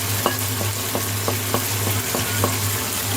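Chaat masala mixture for jhalmuri fries in oil while a spoon stirs it, giving a steady sizzle with regular scraping strokes about every half second, close and fairly loud over a low hum.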